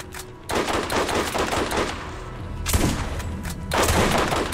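Loud bursts of shotgun and automatic gunfire in Borderlands GOTY Enhanced, in two long stretches of rapid shots separated by a brief lull, with a heavy thump in between, close and alone with no talk.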